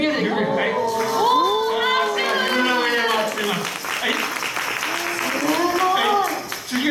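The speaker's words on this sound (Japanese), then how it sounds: "皆さん、はい、拍手。" An audience claps at a Japanese cultural festival for Kumamon performing Higo chonkake koma top-spinning tricks, the applause sustained under excited crowd voices, cheers and a nearby speaker.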